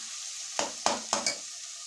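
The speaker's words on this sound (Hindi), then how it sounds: "ये देखें बिल्कुल फ्राई हो चुका है कीमा हमारा।" Keema with peas fries in separated oil, a soft steady sizzle broken by four sharp scraping stirs in quick succession, close and alone.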